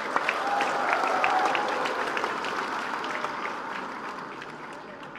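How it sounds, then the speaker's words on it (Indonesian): Sustained applause fills a parliamentary committee room, many hands clapping together in a dense, steady patter that slowly fades toward the end, with a faint voice underneath. "Saya jadi grogi nih, tepuk tangan terus ini."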